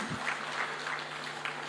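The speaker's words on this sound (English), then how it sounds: "with a huge round of applause from all of you" Audience applause at a seafood exports workshop event, a steady wash of many hands clapping at moderate distance, continuous through the short stretch.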